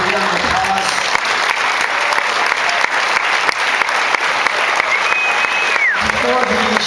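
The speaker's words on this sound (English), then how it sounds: "Let's give him a big round of applause." A church congregation gives loud, sustained applause, dense continuous clapping with a few sharp claps and whistles, and voices briefly audible near the end.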